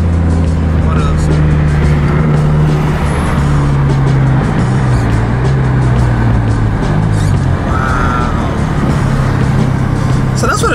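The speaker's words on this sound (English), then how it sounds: "So that's what a turbo feels like." A turbocharged Mazdaspeed 3 accelerates from inside the cabin, loud engine drone shifting pitch through the revs with road noise throughout, and a person talks over it.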